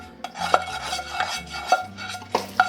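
Caramel corn scraped and stirred out of a cooking pot, giving repeated grating scrapes with sharp clinks of the utensil against the metal pot walls at an uneven rhythm.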